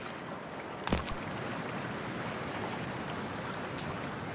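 A character in Cyberpunk 2077 splashes into freezing water with one brief sharp splash, and a steady rushing of waves and water follows without talking.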